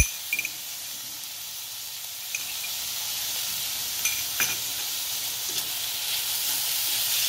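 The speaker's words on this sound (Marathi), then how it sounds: "टमाटा मऊ होईतो परतून घेऊ आपण" Tomatoes with salt sauté in hot oil for a ragda patties base, producing a constant close sizzle and steamy hiss, broken by a few light clicks of a spoon stirring the pan.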